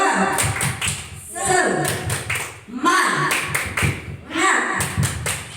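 Rhythmic spirit-clapping chant (tepuk semangat) led for a group of friends: sharp, patterned hand claps in quick bursts, mixed with chanting voices and close talk.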